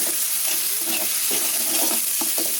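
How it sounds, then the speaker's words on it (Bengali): Ginger and garlic frying in a pan for khichuri, a steady close sizzle with soft intermittent stirring scrapes over a constant hiss. "নাড়া দিয়ে দেই"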